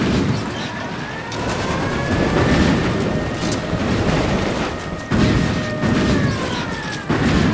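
Explosions in Ghost Recon Wildlands, several sharp booming blasts at irregular intervals, the strongest near the end, over a loud rumbling background of gunfire and chaos.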